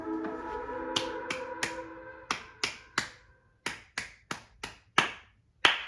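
A group claps along during a John Cage–style piece: about a dozen sharp, irregularly spaced claps or snaps ring out close and loud, first over sustained tones, then alone.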